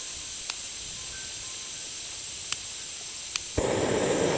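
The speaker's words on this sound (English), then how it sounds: "So you're sacrificing size for igniter on the MSR Pocket Rocket Deluxe. Let's get this one going and listen to it." MSR Pocket Rocket Deluxe camping gas stove with built-in igniter: a steady low gas hiss broken by a few sharp igniter clicks, then a louder, fuller roar as the flame catches and the burner opens up.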